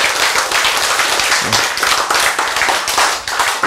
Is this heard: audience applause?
yes